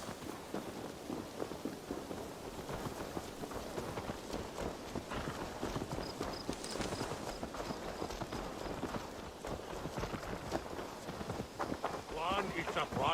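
In Assassin's Creed Valhalla, a horse's hooves clip-clop at a walking pace over the ground in a steady, moderately close rhythm, with a voice speaking over it.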